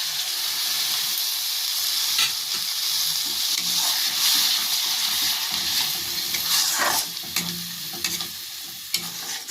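Ground coriander leaf paste sizzles in a hot pan for an egg paneer dish, a steady close frying hiss broken by repeated scraping strokes of a spoon stirring it in, with no voices.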